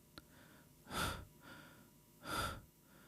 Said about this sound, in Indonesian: Bukan ketukan, tapi napas. Pendek, berat, kayak orang lagi nahan sakit.